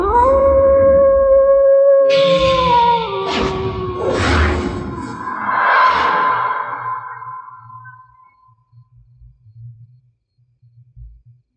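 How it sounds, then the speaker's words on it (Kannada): Several dogs howl together at midnight in long, wavering, overlapping tones that rise and bend, then fade away, leaving faint low rumbling for the last few seconds. "ನಾಯಿಗಳೆಲ್ಲ"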